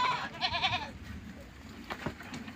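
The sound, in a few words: newborn baby goat bleating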